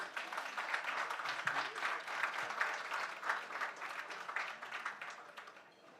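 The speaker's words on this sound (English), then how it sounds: "I think we can give a big round of applause to our panelists." Conference audience applauding panelists at a climate summit pavilion, sustained crowd clapping with distinct hand claps, fairly even before fading slightly at the end.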